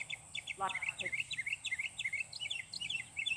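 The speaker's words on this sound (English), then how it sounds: "the mockingbird might be bothering him" A mockingbird sings a run of quick, repeated chirping phrases at moderate distance, steady throughout with a few lower call notes early on, and no talk over it.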